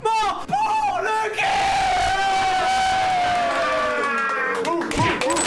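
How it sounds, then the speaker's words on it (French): A crowd of players roars and cheers with scattered clapping in a FIFA tournament room, loud and continuous, with shouting voices rising over the din before it fades out. "Un tonnerre d'applaudissements pour le"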